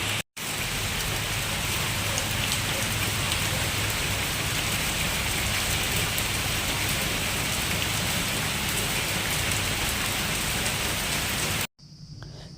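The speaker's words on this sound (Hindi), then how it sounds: "हल्की बारिश हुई और तेज़ हो गई है।" Heavy rain pours steadily as a dense, loud, constant hiss of drops hitting surfaces, continuous for about twelve seconds and then cutting off abruptly.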